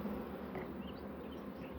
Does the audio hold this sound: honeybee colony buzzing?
yes